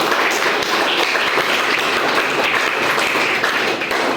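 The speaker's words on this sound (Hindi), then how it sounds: "तो एक बार पूरे बच्चे अपने लिए ताली बजाओ" A classroom of schoolchildren claps for themselves, loud close-up applause with many small hands beating in a dense, continuous patter.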